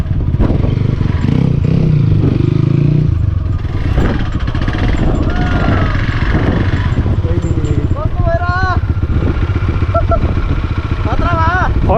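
A motorbike rides over rough, hilly ground to a remote spot in Nepal, its engine rumbling loud and close with rattles and clatter throughout, while people talk over it.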